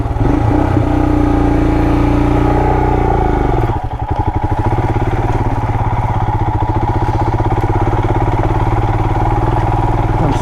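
A 2020 Royal Enfield Himalayan on knobby tires chugs uphill off-road in first gear, its single-cylinder engine thumping loud and close, shifting from a smoother drone to a rapid, steady pulsing beat partway through.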